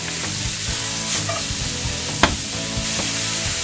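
Leek fries with garlic in olive oil in a pan, a dense continuous sizzle with a low background hum and a single sharp knock partway through.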